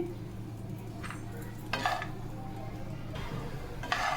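Almonds dry-roasting in a pan with only a little ghee, stirred with a utensil: intermittent scraping and clinking strokes come in short bursts over a low steady hum, close and moderately loud.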